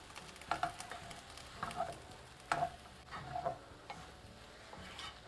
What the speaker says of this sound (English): So in goes our kind of stir-fried okra, which has started to cook off